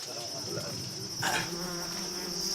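A dense insect buzz drones steadily throughout, a high, sustained hum of disturbed African bees swarming close by, with a brief louder swell midway.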